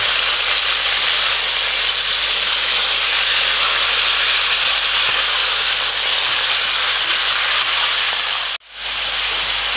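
Pork neck chops searing in a pot give a loud, steady broadband sizzle that holds evenly throughout, with one brief sharp dropout near the end.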